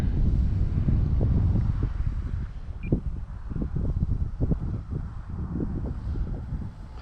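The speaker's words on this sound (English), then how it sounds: "It is a very, very windy day." Strong, gusty wind buffets the microphone at an RC plane flying field, a loud, low roar that eases slightly after the first seconds while faint thumps and rumbles come and go underneath.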